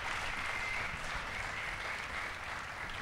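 An audience applauds an author at a live discussion event at the Cirque Électrique, producing a continuous, fairly steady roar of many hands clapping that fades slightly toward the end, with no talk over it.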